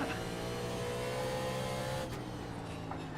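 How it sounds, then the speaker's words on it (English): A 1987 NASCAR Monte Carlo stock car in the iRacing video game drones with a steady, loud engine note, holding an even pitch throughout with no voices over it. "The 87's NASCARs have one of the best sounds in the game"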